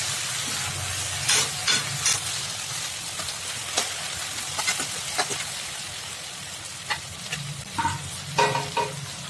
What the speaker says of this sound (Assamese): মাংসবোৰ সিজিব ধৰিছে অলপ ৰঙচুৱা হৈ গৈছে